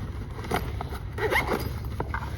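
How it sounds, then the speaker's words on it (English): Zipper on a pickleball paddle bag pulled closed in a few quick rasping strokes, close and moderately loud, with light handling noise between pulls. "Zip up one side."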